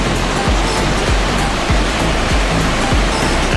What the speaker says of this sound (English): Can you see all the water comes down there?